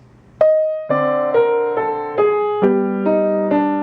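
Sustained piano chords struck one after another, each shifting up by a small step, about eight chords in a steady, unhurried sequence with no voices.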